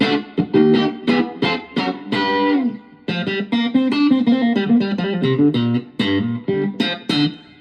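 An electric guitar plays through a Roland Cube 10GX amp with the distortion at half, giving a loud, close run of crunchy picked notes and chords in quick rhythmic phrases, alone with no talking.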